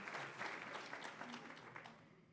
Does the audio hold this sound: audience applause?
yes